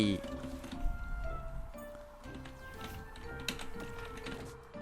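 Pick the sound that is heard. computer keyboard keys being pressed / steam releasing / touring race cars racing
computer keyboard keys being pressed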